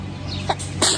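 A single short sneeze outdoors in a village, a quick breathy burst near the end of a second of quiet background hum.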